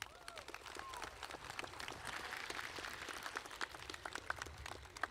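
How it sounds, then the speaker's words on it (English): Audience applause at the Tuttle High School 2025 graduation ceremony, a steady wash of many hands clapping at a distance in a large venue, with scattered louder claps and faint crowd murmur throughout. "Please give them a round of applause"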